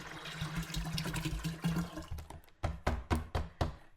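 The last of the water is poured into a container while making mead with bread yeast, a steady close splashing pour followed by several sharp, evenly spaced knocks or taps.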